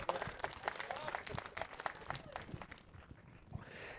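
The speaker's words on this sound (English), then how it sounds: "Let's give Jackson a round of applause." A round of applause from a room of people, steady clapping that continues for several seconds and tapers near the end.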